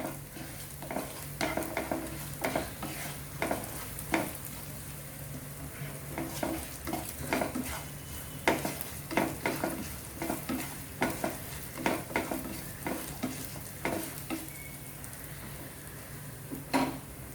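Masalas with coriander powder and garam masala sauteed in a pan for a matar pattice filling, a steady sizzle with repeated close scraping stirs throughout.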